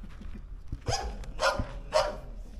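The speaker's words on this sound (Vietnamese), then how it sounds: "Chó Phú Quốc à?" A Phu Quoc dog barks three times in an evenly spaced sequence, moderately close, over low background noise.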